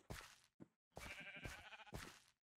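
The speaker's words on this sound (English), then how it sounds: "These sheep are making me angry." Sheep in the Minecraft video game bleat several times in quick succession, close and clear, with short quiet gaps between the calls.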